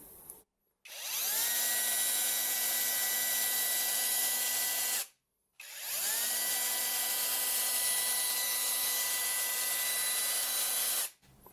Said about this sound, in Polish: Zobaczmy samo wiercenie.